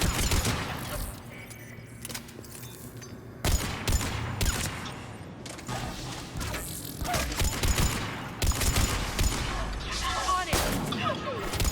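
Rapid gunfire and blasts rattle through a Mass Effect Legendary Edition firefight with a sniper, dense and loud bursts with heavy impacts, and voices talk under the shooting.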